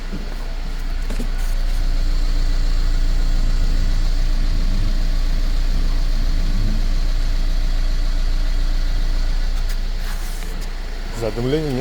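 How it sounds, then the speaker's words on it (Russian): Mercedes M274 car engine idling with 53,000 km of mileage, a steady low hum that holds evenly throughout, while someone talks over it. "Двигатель работает ровно."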